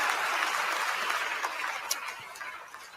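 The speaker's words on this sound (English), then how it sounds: "Clap your hands." A crowd claps steadily throughout, a dense, even wash of applause at moderate level with no talk over it.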